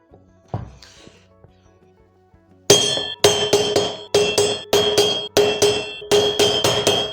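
Hammer striking the outer drum of a washing machine during a repair, with seven loud, close metallic clangs at a steady rhythm after a few faint knocks; no talk.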